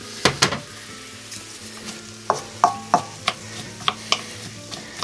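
Onions fry in a hot pan with a constant soft sizzle, punctuated by sharp clacks and scrapes of a utensil stirring against the pan at irregular intervals, close and with no talking.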